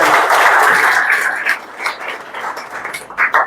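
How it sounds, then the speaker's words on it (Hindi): An audience gives a burst of dense, hissy applause that is loud at first, then thins into scattered claps as it fades over a few seconds. "एक बार और जोरदार तालियों से अभिनंदन करें"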